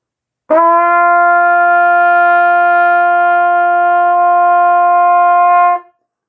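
A valved brass instrument plays an open G with no valves pressed, one steady and bright long tone held for about five seconds before cutting off, heard alone up close.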